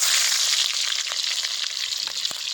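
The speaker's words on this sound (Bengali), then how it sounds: "এখন আমি আলু আর সিমটা ভেজে নেব" Potatoes and beans sizzle loudly in a pan, a dense hiss broken by small crackles and spatters.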